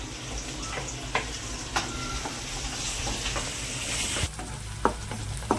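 Chilies, garlic and onion fry in hot oil for Indian-style masala pasta, giving a continuous moderate sizzle and crackle broken by a few sharp clicks of a spoon against the pan, with no voices.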